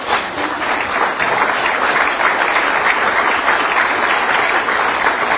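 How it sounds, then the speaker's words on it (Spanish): A church congregation applauds during a Spanish-language sermon, a loud, dense and steady wash of clapping that fills the whole stretch without a break. "Den un aplauso al Señor."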